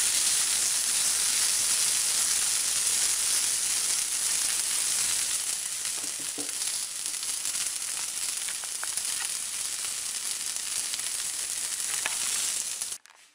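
Black sesame seeds frying in a pan, a steady, dense sizzle and crackle that holds at an even level close up for the whole stretch, then cuts off abruptly at the end; no talking.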